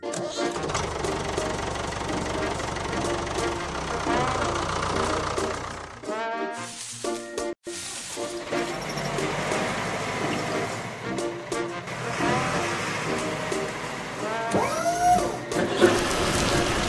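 Cartoon car engine sounds from a Masha and the Bear driving video game, a steady mechanical revving and knocking hum mixed with game music and effects, briefly cutting out near the middle.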